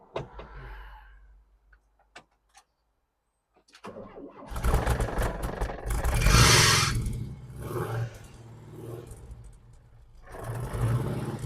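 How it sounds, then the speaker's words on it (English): A Volkswagen T25 van, unstarted for a couple of weeks and with a loose fan belt, sits silent apart from a few faint clicks before its engine cranks, catches and settles into an uneven, rumbling run. "I'll come over here and start the engine"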